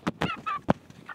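A rooster among a flock of young backyard chickens gives a quick series of short, honking squawks, several brief calls spaced irregularly and heard fairly close with little else around them.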